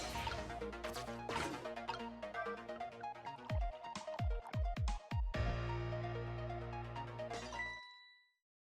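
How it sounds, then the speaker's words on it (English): Glassware clinks and shatters in a sequence of sharp crashes and bright tinkling impacts, ending with a ringing ding in a bar setting in the Ghost Trick Phantom Detective game; loud, with no talking. "Oh, you just broke that glass, just like you did my heart."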